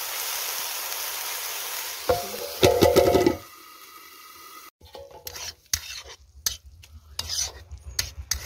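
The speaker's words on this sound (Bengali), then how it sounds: "লাল শাক ভাজা হয়ে গেছে, তুলে নেব" Red spinach stir-fries in a pan with a soft sizzle, broken by bursts of scraping and rhythmic clattering stirs from a utensil against the pan, heard up close.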